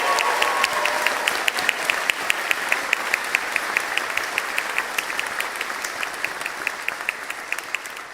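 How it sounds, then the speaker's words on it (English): Sustained applause from a large audience at a university podiatric medicine commencement ceremony, a steady dense wash of clapping with a few sharper claps standing out, loud and continuous throughout. "Please join me in a round of applause for all of them."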